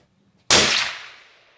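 A single loud, sharp gunshot from a large gun at a shooting competition cracks after a moment of quiet, then its echo decays over about a second.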